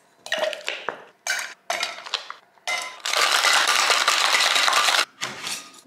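Ice cubes clatter into a small glass of lime-juice drink in several sharp bursts of clinking, then a long, dense rattle of pouring ice, with a final short clatter. The sound is close and fairly loud, with no talking.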